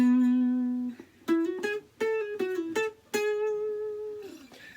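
A song intro is played in E on a 3-string cigar box guitar: a short run of plucked and slid notes with a few brief pauses, ringing out clearly and alone.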